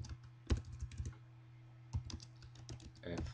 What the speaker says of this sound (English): I press Alt GR and here for the cedilla.